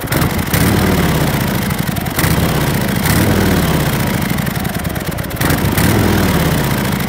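Harley-Davidson Fat Boy motorcycle running with its exhaust flap closed, a loud steady low engine rumble with a few brief throttle swells and dips, close by and without talking.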